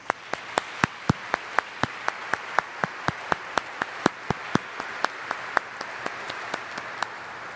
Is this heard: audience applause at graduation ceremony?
yes